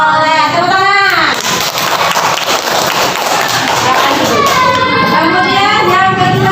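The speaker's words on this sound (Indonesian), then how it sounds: "Tepuk tangan." Pupils in a classroom clap loudly and continuously in a religious studies lesson, a dense sustained applause that runs throughout, mixed with cheering voices and someone speaking at the start and end.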